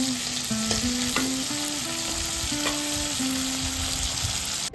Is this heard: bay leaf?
yes